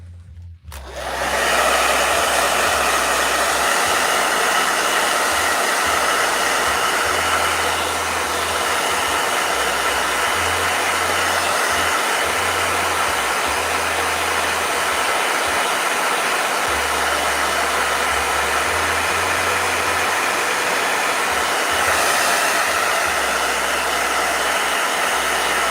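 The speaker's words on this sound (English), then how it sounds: "Blow dryer." A blow dryer starts up and runs continuously with a loud, steady whooshing roar and a low hum, with no breaks.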